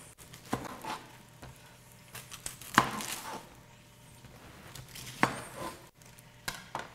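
A knife slices through a small onion on a cutting board: a few quiet, sharp chopping strokes spaced irregularly over soft kitchen background noise.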